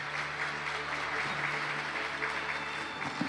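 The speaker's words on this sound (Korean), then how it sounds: "박수로 환영해 주시면 감사하겠습니다" An audience at a Korean semiconductor tech conference applauds as a speaker is welcomed to the stage, with moderate clapping that carries on steadily over a faint low hum in the hall.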